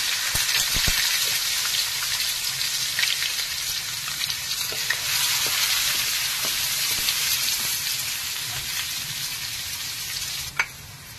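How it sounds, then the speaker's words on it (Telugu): Thinly sliced garlic frying in hot oil with spluttered mustard seeds and cumin, the base for a mushroom curry, gives a dense, steady sizzle and crackle that runs throughout, close and unbroken, with no voices. "ఆవాలు జీలకర్ర చిటపక్క ఆడిపోయింది. ఇప్పుడు సన్నగా కట్ చేసుకున్న వెల్లుల్లి,"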